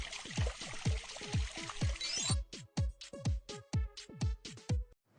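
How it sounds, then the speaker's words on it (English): Water spurting from a bottle in a mobile game, a rapid series of gurgling, bubbly plops in quick rhythm over a hissing rush that cuts off midway, the plops continuing alone until a brief silence. "You will see water coming out like a fountain."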